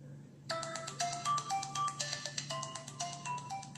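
Ulefone U007 3G smartphone plays a bright melodic ringtone, a quick repeating sequence of chiming notes, moderately close over faint room hiss.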